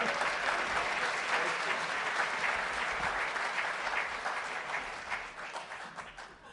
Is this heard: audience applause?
yes